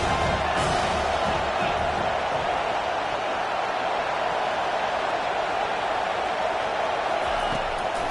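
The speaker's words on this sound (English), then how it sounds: "Decibels rising as the crowd gets behind this defense on 3rd down" A football stadium crowd roars as the defense lines up on third down. The broad, continuous wall of noise holds steady and loud throughout, with voices blended into the din.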